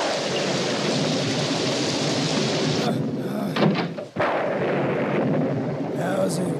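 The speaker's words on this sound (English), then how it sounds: "this rain's gonna make Pa hurry for home a lot faster." Heavy rain pours steadily in an animated film, a dense loud hiss broken by a couple of deep thunder rumbles and thuds in the second half.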